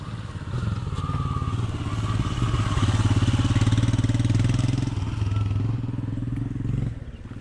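A Royal Enfield Himalayan motorcycle engine runs on a misty Wayanad hill road, a steady mid-pitched thumping drone that swells slightly and eases near the end, heard close with no speech.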